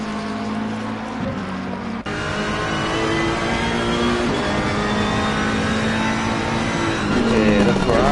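Ferrari race car from Assetto Corsa Competizione at Oulton Park, its engine revving loudly and continuously with crackling exhaust and rising and falling pitch through gear changes, close up with no talk over it.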